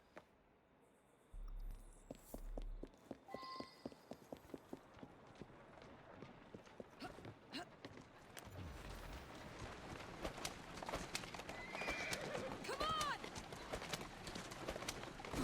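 Hooves clip-clop steadily as a horse-drawn cart rolls along in Assassin's Creed Syndicate, rhythmic clops over street ambience with a brief whinny, distant birds and talking voices.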